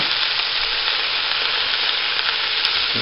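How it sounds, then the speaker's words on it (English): Oxtail and ham hock frying in a cooking pot, a steady dense sizzle, close and loud throughout with no talk. "I'm going to go ahead and throw down the oxtail or the ham hock first"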